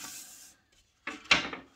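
Sandpaper rubbed along the edge of a wooden shelf during a cupboard build, two short rasping strokes after a brief pause, close and fairly loud.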